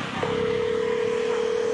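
An outgoing mobile phone call ringing tone in Bangladesh, a single steady electronic tone that starts abruptly and holds, close and clear with no talking.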